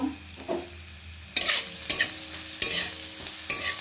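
Whole five-spice mix, dried chilli, bay leaf and ginger hit hot oil for a khichuri tempering, giving sudden loud sizzling bursts with stirring scrapes, starting quietly and then flaring in several sharp waves.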